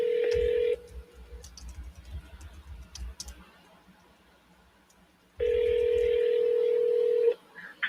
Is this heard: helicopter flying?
no